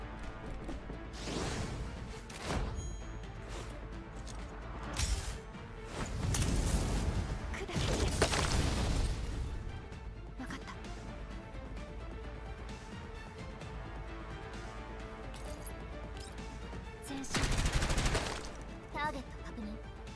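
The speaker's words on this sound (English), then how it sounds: "Destroying barricades just because." Gunfire and smashing barricades in the shooter game Girls' Frontline 2: Exilium, with bursts of shots and crashing impacts recurring across the stretch, loudest in the middle and near the end, over a steady game soundtrack.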